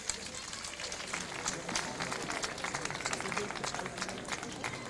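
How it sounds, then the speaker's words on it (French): Audience at a French championship event clapping loudly, a steady dense patter of many hands for several seconds with a murmur of voices beneath. "on applaudit très fort ces ravissantes jeunes filles"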